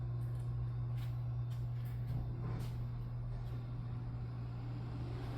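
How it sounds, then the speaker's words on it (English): A garbage truck passes outside, heard indoors as a steady, muffled low engine rumble that holds evenly throughout with faint scattered knocks above it. "You can hear the garbage truck."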